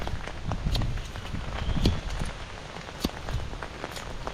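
Steady rain falls during an outdoor dig for kuray roots, with someone digging under an umbrella; a soft continuous patter with scattered louder drop or step-like thumps, moderately close and alone with no talk.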